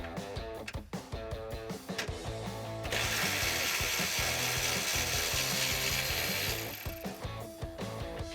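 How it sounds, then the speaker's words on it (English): A 10mm socket on a hand ratchet loosens a heat shield mounting bolt on a 2011-2014 Mustang V6, with a rapid clicking pawl up close, a few quick swings, then a steadier stretch of ratcheting. "we'll take a 10mm socket and loosen that now"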